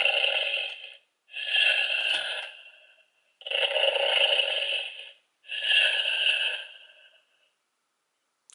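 Gold Fury Blade Blaster toy playing an electronic snoring effect: four long, evenly spaced snore bursts separated by brief silences, close and clear.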